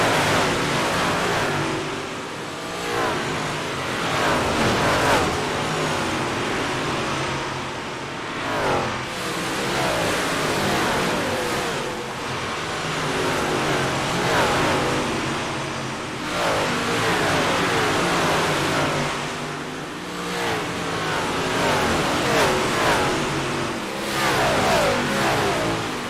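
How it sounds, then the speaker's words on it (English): Dirt track race cars roar past at Eldora Speedway during a Friday night program, loud engines revving and surging in repeated waves as the field laps by, with no talk over the constant engine noise. "We will take a listen as the cars come"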